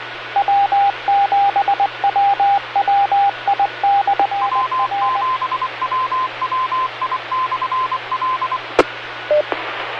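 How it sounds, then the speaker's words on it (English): Morse code sent over an amateur radio net: a steady series of clear beeping tones in dot-dash rhythm, loud above a hissing radio background, the pitch shifting partway through before a sharp click near the end. "So I guess the Morse code lesson is over there."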